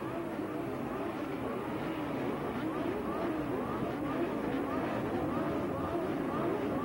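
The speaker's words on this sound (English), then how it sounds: "Engines revving," Toyota Formula Atlantic race car engines rev on the starting grid at Long Beach in a 1992 SCCA round, held high at around 10,000 RPM in a continuous, dense, loud roar with no breaks.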